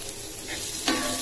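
Onions sautéing in a pan, a brief close hiss of frying with a soft stirring scrape and a brighter burst of sizzle near the end.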